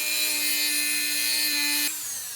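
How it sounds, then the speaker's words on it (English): A Dremel rotary tool cuts a part for a custom blaster build, making a high, steady whining grind with a bright tonal hum that runs for about two seconds and then stops abruptly. "It's a Dremel."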